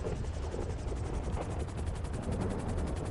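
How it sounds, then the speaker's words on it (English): Rotor whine and steady thrum of the Annihilator helicopter from Grand Theft Auto in GTA Online, a continuous droning engine that stays loud and even throughout with no pauses. "we got the good old Annihilator from Grand Theft Auto 4"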